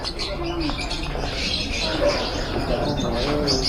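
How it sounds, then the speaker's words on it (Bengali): Birds calling inside a zoo aviary in Darjeeling, with scattered chirps and cooing notes over a busy background murmur of visitors, moderately close. "তো অনেক পাখি আছে এখানে"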